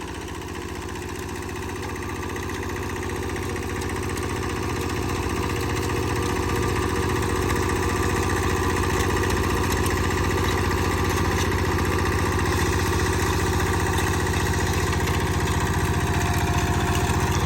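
Kubota KRA75 7.5 hp diesel engine running steadily nearby, a continuous loud chugging drone with even rhythm and no voices.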